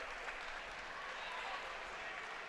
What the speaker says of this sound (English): he's first one to clap when he gets up